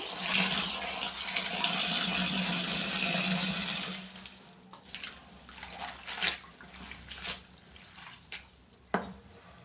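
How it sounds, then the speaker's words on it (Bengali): Tap water runs steadily onto leafy greens being washed in a kitchen sink, a continuous rush that cuts off after a few seconds, followed by scattered splashes and clinks of handling. "এখানে আমি কিছু শাক ধুয়ে নিচ্ছি"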